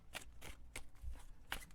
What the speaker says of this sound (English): So I'm shuffling my other cards here